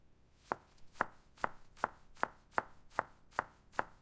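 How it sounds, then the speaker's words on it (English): A knife chopping 16 ounces of fully thawed fish sticks into roughly half-inch pieces on a board; nine crisp, evenly spaced chops in a steady rhythm, close and clear with no talk. "chop up 16 ounces of fully thawed fish sticks into roughly half-inch pieces"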